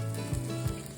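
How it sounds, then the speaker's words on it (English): Roti pizza pan-frying in oil on a skillet over medium heat, a faint steady sizzle with soft crackle and a couple of low bumps, heard alone. "gently pan-frying the pizza on a skillet or a large pan with oil over medium heat to achieve a crispy crust"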